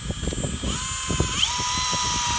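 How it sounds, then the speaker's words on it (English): A handheld power drill whines steadily as it bores at an upward angle into a maple tree to tap sap, its tone rising as it spins up, with faint clicking and knocking underneath. "I will take my drill and I'll hold it somewhat of an upward angle, because I want the sap to flow out."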